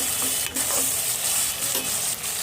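Drumstick (moringa) pieces and potatoes seasoned with turmeric and salt frying in oil, a steady close crackling sizzle with brief stirring clinks and scrapes, no voices.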